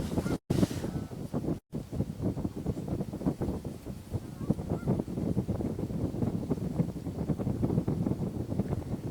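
Wind blowing in through a car window rushes and buffets loudly near the microphone in uneven gusts, with brief dropouts early on and a faint voice-like murmur underneath.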